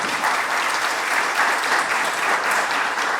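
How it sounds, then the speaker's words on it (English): An audience gives a round of applause for event sponsors before a 2025 legislative review program, a dense, even wash of clapping from many hands that stays loud and steady throughout. "Can we give them a round of applause before we get started today?"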